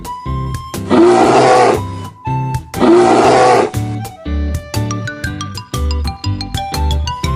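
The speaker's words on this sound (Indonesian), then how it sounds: "beruang," Two strong, close roars attributed to a bear rise over chiming musical tones, each lasting about a second, with the tinkling melody continuing between and after them.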